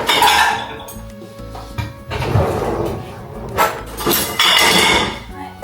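Dishes, pots and cutlery clatter and clink in a home kitchen in the Netherlands, with irregular knocks and scrapes close by and someone talking intermittently over the washing-up.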